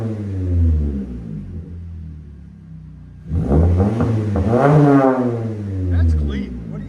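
A 2023 Toyota Camry SE 2.5L with a Magnaflow Magnapack and muffler delete idles with a low drone, then rumbles loudly up through a rev and falls back, with voices talking over part of it.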